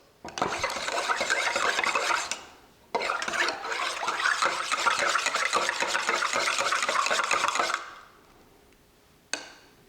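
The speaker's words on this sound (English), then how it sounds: "We shall mix this up just to incorporate everybody. So let me grab a spoon." A spoon stirs a coffee drink around inside a pitcher, a steady scraping swirl in two long bursts, with a brief clink of the spoon at the end.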